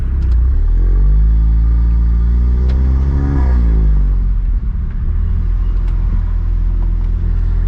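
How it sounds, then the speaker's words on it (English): A 500 bhp Revo-tuned Golf R barks out a loud, deep exhaust rev that climbs and falls once, then settles into a heavy rumbling idle close by. "More exhaust noises."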